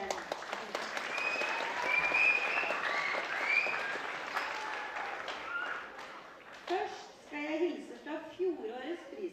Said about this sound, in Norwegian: Denne gjengen fortjener en stor applaus igjen.